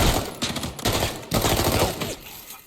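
Rapid automatic gunfire in the shooter game Arena Breakout, loud, close bursts separated by brief pauses, with no voices.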